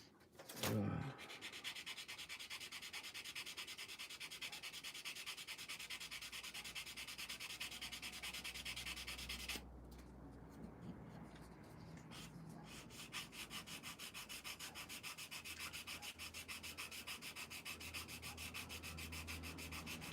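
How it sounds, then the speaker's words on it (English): Continuous close-up sanding of a plastic Wildcat F4F-4 model kit, a gritty rubbing scrape that runs steadily, briefly pausing and shifting in tone midway before resuming. "That is going to need sanding down a tad"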